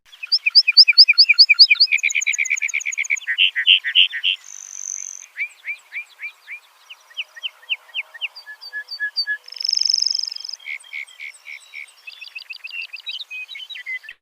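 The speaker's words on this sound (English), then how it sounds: "the males show off to attract a mate, either singing from a perch or with an impressive song flight" A male songbird delivers its display song, a close, clear stream of varied chirps, trills and buzzy phrases that shifts pattern continuously with no other sounds around it.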